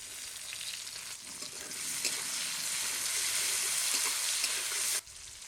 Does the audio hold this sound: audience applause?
no